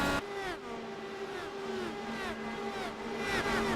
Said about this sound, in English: You can hear the cars slipping just a little.